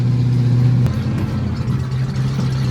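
A 4x4 engine hums at a steady pitch, then its tone shifts and roughens as it changes into third gear, continuing to run loudly without a break.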